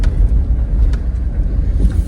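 Car engine labouring up a steep, winding hill road with sharp bends, a loud, close, low rumble that pulses slightly and holds steady for the whole stretch.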